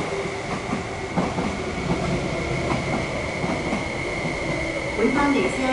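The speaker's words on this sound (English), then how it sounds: "A non-stop train is passing through the station." A non-stop freight train hauled by G26CU and G16 diesel locomotives rumbles through a station with a steady rolling roar and faint rhythmic rail clatter, fairly close, continuous throughout with a tonal hum above it.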